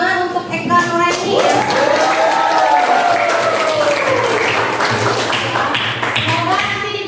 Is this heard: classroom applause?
yes